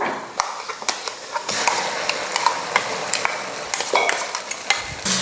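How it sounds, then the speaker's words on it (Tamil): Onion, garlic and ground masala paste sautéing in hot oil for a nethili (anchovy) fish curry, heard as a steady close sizzle with repeated scraping stirs of a spoon against the pan, with no talking. "மசாலாவும் அந்த எண்ணெயில் வதக்கிக்கலாம்"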